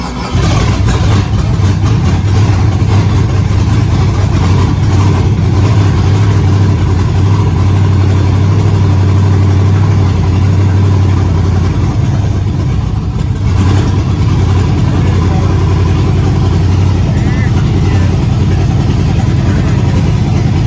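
A race car engine runs loud and close after being cranked and started, a steady low rumble with a few small shifts in revving and no clear pauses.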